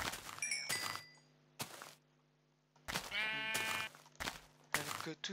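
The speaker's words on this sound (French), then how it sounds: "Avec tous ces bruits de moutons, j'ai peur que ce soit un creeper." Several sheep bleating in the video game Minecraft, short wavering bleats in separate bursts with gaps of silence, some overlapping, fairly close and clear.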